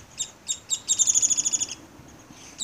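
A downy woodpecker at a residence in Chilliwack, BC calls with a few spaced high chirps, then a rapid descending whinny of quick notes, close and clear against quiet background.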